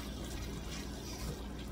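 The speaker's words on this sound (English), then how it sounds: "Add a little more water." A couple of tablespoons of water poured into a pot simmering on low for taco pizza topping, a soft, brief splashing trickle heard alone.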